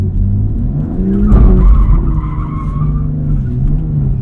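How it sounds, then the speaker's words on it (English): A BMW M2's engine revs as tires skid and scrub across pavement in a brief swelling squeal during an attempted donut with traction control off, close and loud, then settles into a rumbling idle. "Let's see if it'll let me do a donut like that."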